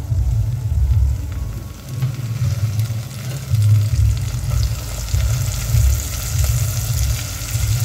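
Chopped tomatoes go into spiced Maharashtrian masala rice in a hot pan, giving a loud, continuous sizzle with stirring scrapes that rise and fall throughout, no voices.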